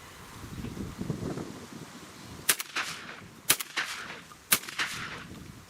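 A Browning B80 20-gauge semi-auto shotgun with a 3-inch chamber fires outdoors: four sharp, loud blasts about a second apart, each trailing a short echo, over steady wind noise.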